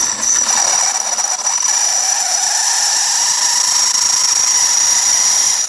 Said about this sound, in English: I'm going to drill this at a little bit of an angle